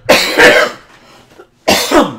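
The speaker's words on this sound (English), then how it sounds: "My cough is getting a little out of hand." Two harsh, forceful coughs come close to the mic, the first a double bark, then a short pause and another double cough, with no talking around them.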